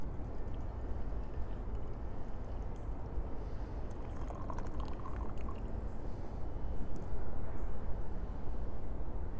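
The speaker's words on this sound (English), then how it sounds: "Pour a little bit out." Dian Hong Yunnan black tea pours in a steady, close liquid stream with a soft broadband splash that holds for the full stretch, slightly fuller near the end, with no voices.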